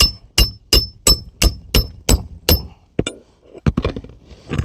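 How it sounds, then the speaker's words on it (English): Roofing nails are hammered through asphalt shingles into roof decking: eight evenly spaced, ringing hammer strikes close by, then a few looser, irregular knocks and scrapes. "I'm not hammering it more than I have to, guys. Again, just making sure I get through the decking."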